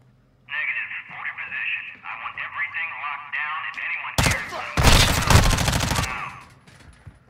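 Bursts of gunfire in Call of Duty Modern Warfare 2, loud rapid shots crackling over about two seconds, following radio-like chatter and voices, then fading out.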